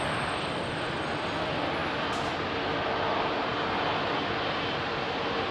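A heavy jet airliner, wings laden with fuel, departs Heathrow as a steady, moderately distant broadband roar. It stays even and unbroken throughout, with no voices.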